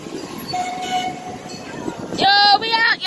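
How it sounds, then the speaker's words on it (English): An amusement park train passes with a loud horn-like tonal sound near the end, over crowd noise and background speech in a busy park setting. "Look at the train."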